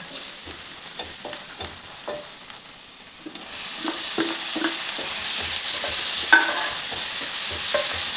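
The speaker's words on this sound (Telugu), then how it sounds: "ఆనియన్స్ కూడా కొంచెం ఫ్రై అయ్యాయి కదా, ఇప్పుడే టమాటా యాడ్ చేస్తాను." Onions and tomatoes frying in a pan, with a steady close sizzle and hiss under repeated scraping stirs of a utensil against the cookware, and no voices.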